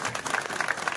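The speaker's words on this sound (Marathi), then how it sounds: "टाळी वाजवा त्यांच्यावर" An audience at a Marathi kirtan claps together in quick, steady applause, fairly loud and dense, heard alone for a brief moment.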